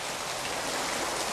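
A strong current of floodwater rushes through a street passageway, making a dense, steady, loud roar of water that fills the whole moment without pause and with no voices.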